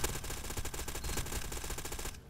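A P90 submachine gun in a video game fires a continuous rapid burst of quiet, evenly spaced shots for about two seconds, then stops abruptly.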